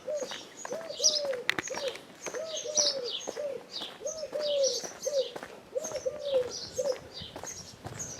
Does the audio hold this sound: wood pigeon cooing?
yes